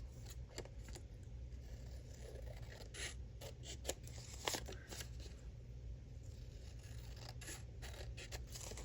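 Scissors trimming a paper journal tag, giving a string of quiet, irregular snips and rustles over a steady low hum, close to the microphone with no talking.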